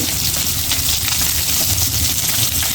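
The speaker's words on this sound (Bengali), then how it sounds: "তো এই যে মাছগুলো প্রায় ভাজি হয়ে গেছে" Fish frying in hot oil in a home kitchen: a steady, loud, continuous sizzle and crackle throughout, with no talking.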